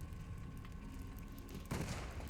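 Gunfire in the Sniper Elite 5 video game: a low, rumbling shot or burst at a distance over steady ambient noise, with a louder broadband crack near the end.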